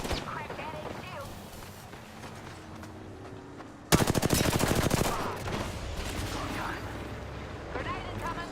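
Apex Legends gunfire: a sudden loud burst of rapid automatic fire erupts midway and rattles on for about a second, then trails into more distant shooting and game noise, with a player talking throughout.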